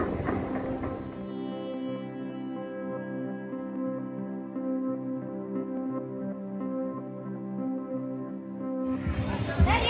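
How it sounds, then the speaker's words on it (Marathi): A funicular ropeway car rises toward a hilltop temple station in Virar, giving a steady mechanical hum with layered tonal whine that holds evenly throughout, with brief bursts of broadband noise at the start and end. "ती ट्रेन दिसते तुम्हाला खालून येताना"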